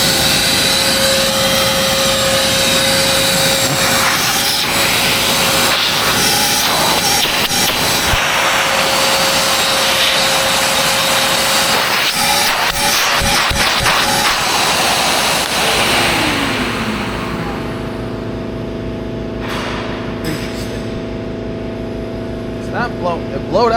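A freshly repaired vacuum cleaner runs at full suction with a loud, steady roar and rattling debris, then its motor note drops and eases toward the end.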